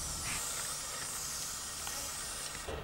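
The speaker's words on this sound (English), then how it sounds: "give it a really generous spray" A continuous, loud hiss of a WD-40 Multi-Use Product aerosol can spraying steadily onto a spade for a few seconds, ending with a brief sputter.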